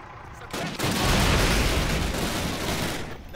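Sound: gunshot in Call of Duty video game

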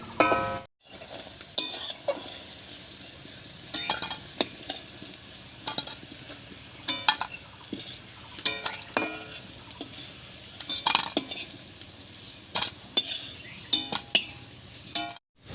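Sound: frying dhoka (lentil cakes) in a wok

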